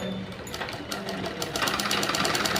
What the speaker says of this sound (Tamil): இப்போ மிஷினில் வச்சு ஒரு தையல் போட்டுக்கிறீங்க